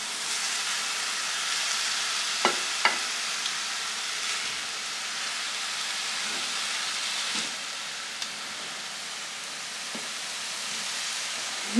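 Vegetables are stirred in a frying pan with a spatula, a steady close sizzle and hiss running throughout with a few faint scrapes and taps of the spatula, and no voices.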